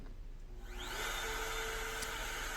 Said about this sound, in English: We're gonna fire up the router.